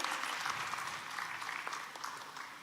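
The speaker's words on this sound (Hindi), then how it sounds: "तालियां इस सफलता के सोपान पुस्तिका के विमोचन के लिए।" An audience applauds steadily at a book release ceremony during an award function, a dense, continuous clapping that fills the whole stretch at an even level with no voices over it.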